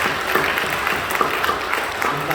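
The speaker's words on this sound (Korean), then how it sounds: "사랑하며 격려하며 박수 주십시오" A church congregation clapping during a worship service, dense, steady applause from many hands in a large room that carries on throughout.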